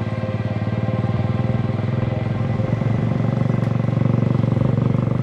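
A motorcycle rides through the streets of Haiti, its engine a steady, close, throbbing drone with a slight pulsing rhythm throughout.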